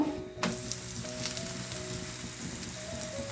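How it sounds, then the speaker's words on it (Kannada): Thin roti made with drumstick leaves and onion greens frying in oil on a hot pan, giving a continuous close sizzle that starts abruptly and holds steady, with no talking. "ಈ ರೊಟ್ಟಿ ಮೇಲೆ ಸ್ವಲ್ಪ ಎಣ್ಣೆನ ಹಾಕ್ಕೊಳ್ಳೋಣ ಸ್ವಲ್ಪ ಬೆಂದ ಮೇಲೆ ತಿರುಗಿಸ್ಕೊಬೇಕು"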